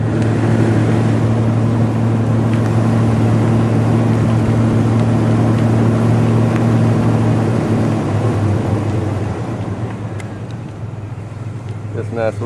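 A manual-transmission car driving on the grounds of the OREC dragstrip in Onawa, Iowa, its engine droning steadily and loud with a low hum throughout, easing slightly in the last few seconds.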